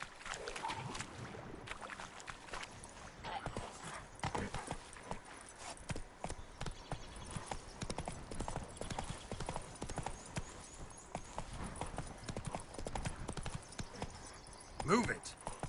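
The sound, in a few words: horse hooves clip-clopping in video game Witcher 3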